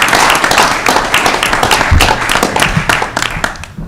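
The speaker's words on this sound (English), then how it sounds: "A round of applause for our departing board members." Applause for departing members at a school board meeting, a dense burst of clapping from a room of people lasting several seconds and thinning slightly toward the end.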